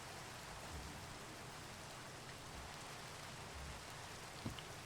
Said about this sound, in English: we can get rid of this rain